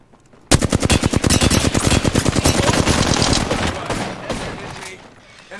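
Rapid automatic gunfire rattles in a shooter video game, a loud sustained burst of dozens of evenly spaced shots that fades toward the end.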